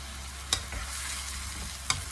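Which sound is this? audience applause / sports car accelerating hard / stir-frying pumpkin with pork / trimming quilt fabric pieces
stir-frying pumpkin with pork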